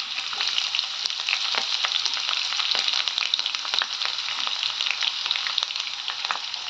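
Onions frying in a pan with cashews and green chilies for dill leaf rice, giving a steady, close, continuous sizzle with faint stirring crackles and no voices.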